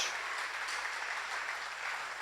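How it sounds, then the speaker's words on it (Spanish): A steady wash of applause from a church congregation, dense and even throughout, moderately loud with no pauses. "dale el aplauso al Señor"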